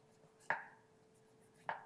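Knife scoring raw chicken for tandoori chicken on a chopping board: two sharp, close cuts about a second apart, with a faint steady hum underneath and no talk.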